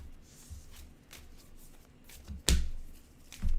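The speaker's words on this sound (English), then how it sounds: "you're going to shuffle the deck of mana cards, and that will become your new draw pile" A deck of mana cards from the tabletop game Wizards of the Grimoire is shuffled by hand, soft riffling and papery flicks close by, ending with a couple of sharper taps as the cards are squared.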